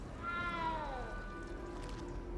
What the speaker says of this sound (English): That cat has the strangest meow.